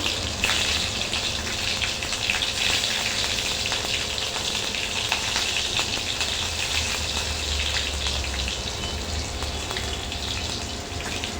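Asafoetida, cumin and green chillies crackle and sizzle in hot oil for a cabbage bhaji, a steady, dense hiss that holds close and even throughout with no talking.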